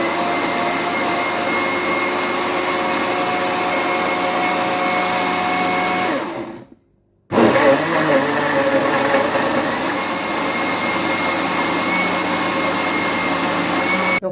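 A blender whirs steadily while blending fresh fruit and moringa leaves into a smoothie, running loud and constant, stopping briefly for about a second, then starting again at the same steady pitch.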